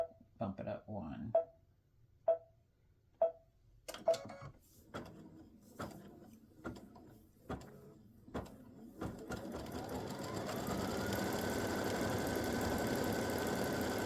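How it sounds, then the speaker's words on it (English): An embroidery machine stitches an edge-to-edge hummingbirds and hibiscus quilting design at 700 stitches per minute. Separate mechanical clicks and taps come first, then a steady, close, fast-running mechanical whir. A brief voice is heard at the start. "I'm stitching at 700 stitches per minute on this"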